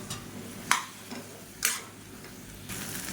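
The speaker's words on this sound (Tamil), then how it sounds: "இது எல்லாத்தையும் சேர்த்துட்டு நல்லா வதக்கி விட்டுக்கலாம்." Soft sizzling of vegetables sautéing in a pan for poricha kulambu, with occasional scrapes and clinks of a utensil stirring, steady and fairly quiet, no talking.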